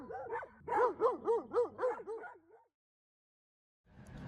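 Stray dogs bark at night in rural Turkey, a rapid string of about half a dozen yelping barks close by. After the barking comes a silent gap and then faint background noise.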